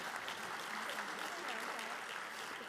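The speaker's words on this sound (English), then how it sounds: "Big round of applause. Keep it going for Ms. Kearse." Audience applause at a school district teacher of the year celebration, a faint continuous patter of many hands clapping from a distance with a voice faintly mixed in.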